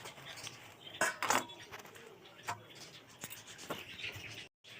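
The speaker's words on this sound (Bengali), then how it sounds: "ফুলকপির পাতাগুলো ধোয়ার পর এবার কেটে নেব।" A knife cuts washed cauliflower leaves on a board in a home kitchen, giving scattered crisp chopping taps and scraping strokes at an uneven pace, close but quiet.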